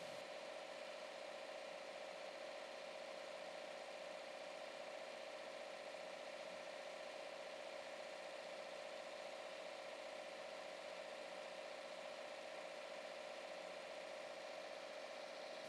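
A Subaru WRX with an FA20 engine idles steadily, a constant mid-pitched hum with a strong tonal whine held evenly and faintly throughout, without voices.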